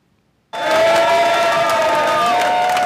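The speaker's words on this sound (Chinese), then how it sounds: "这今日要会场现场就响起支持者的欢呼声。" Supporters at a Slovak presidential runoff election venue break into loud, sudden cheering and shouting that rises as a dense crowd roar and holds strong to the end.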